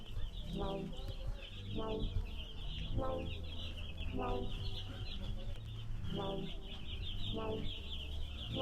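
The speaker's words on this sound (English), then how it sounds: "We just got a shipment of our meat birds in on the farm." Newly delivered meat-bird chicks fill a warm farm brooder with constant high peeping, while a series of deeper, evenly spaced clucks repeats roughly every second and a half.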